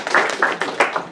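A seated audience at a talk in a West Seattle senior living community gives a brief round of close, crisp hand claps for a former mayor, with voices mixed in.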